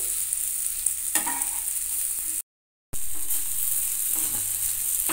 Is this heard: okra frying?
yes